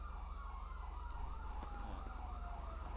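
Police sirens wailing in GTA V, a steady rising-and-falling siren at moderate distance over a low engine rumble, with no talk.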